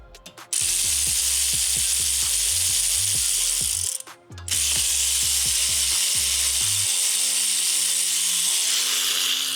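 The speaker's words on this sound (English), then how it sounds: "Now that we loosen this bolt, we're gonna loosen the top one as well." Ratchet loosening a brake caliper bolt on a 2006–2009 Ford Fusion, heard as close, loud bursts of rapid clicking in quick repeated strokes, with a short pause midway and then a fainter tail.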